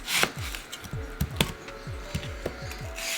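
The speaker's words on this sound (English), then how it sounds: "so I'm gonna cut this in half." A knife chops through shrimp and crab ceviche ingredients on a board, making about ten quick, close knocks in a loose, uneven rhythm, with no voices.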